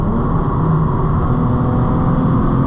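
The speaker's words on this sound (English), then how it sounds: "You know, like a downshift now," A Nissan 370Z time attack project car engine during a downshift, a loud, dense low rumble that holds steady throughout the short stretch with no voices.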